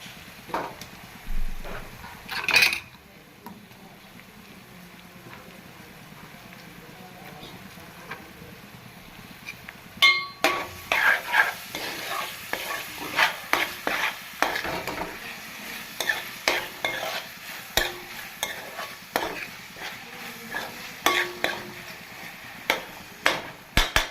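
Spoon stirring food frying in oil in a pan for a crab and eggplant curry, with a soft steady sizzle broken by repeated scraping clatters that grow busier in the second half.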